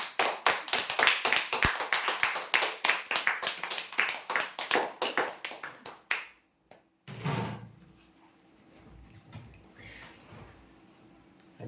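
Audience applause at a weekly lottery draw event, a dense burst of clapping that fades out after about six seconds, followed by quieter room noise.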